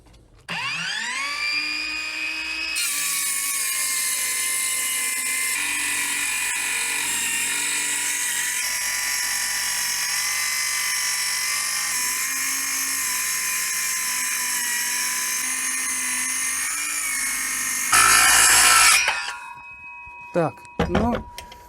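A budget cordless Vitals saw spins up and rips lengthwise through wood for a long stretch, a loud whining buzz, then winds down with a few clicks at the end.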